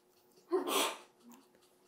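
A single sharp sneeze bursts out close by, a quick intake then an explosive hiss, followed by quiet.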